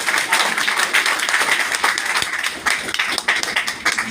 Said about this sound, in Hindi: ताली तो कम से कम बजाइए।